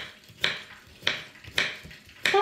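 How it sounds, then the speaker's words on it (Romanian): A knife cuts through peeled cucumbers on a board in a home kitchen, four crisp evenly spaced chops, close and fairly quiet, with nothing else around them. "Am curățat castraveții, le tăiem felii, așa"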